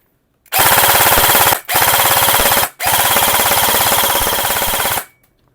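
A Lancer Tactical 52S AK airsoft gun fires full auto in three loud, close bursts of rapid mechanical rattling, with brief gaps between them.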